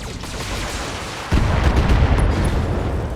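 Heavy turret fire pounding a mech in the Battletech video game: a loud, deep boom hits partway through and is followed by rumbling impacts over a constant roar of battle.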